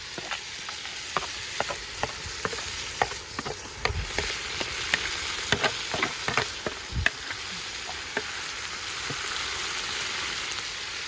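Ginger and garlic paste with green chilli sizzles and spits in a hot pan, a steady crackling frying hiss broken by sharp clicks and scrapes of stirring, close and fairly quiet with no talk.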